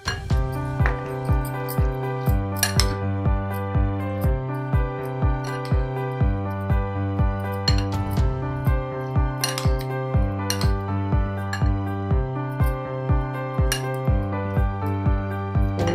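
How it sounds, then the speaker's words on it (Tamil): A spoon clinks repeatedly against a bowl while mixing a bread pizza topping with chilli flakes, dried herbs and salt, giving bright, evenly spaced metallic taps over a soft steady background. "சில்லி ஃப்ளேக்ஸ், ட்ரை ஹர்ப்ஸ், இதை நல்லா மிக்ஸ் பண்ணிக்கணும்."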